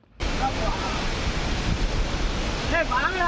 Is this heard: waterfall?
yes